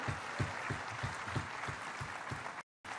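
A crowd at a political stage event led by a chief minister claps in a rhythmic beat, with regular pulses through a faint, distant wash. It breaks off abruptly into a short silence near the end.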